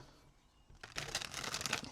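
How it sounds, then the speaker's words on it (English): Tarot cards are shuffled by hand, a quiet riffling patter that starts partway in and grows denser and brighter, heard alone with no talking. "let's go ahead and start shuffling the tarot."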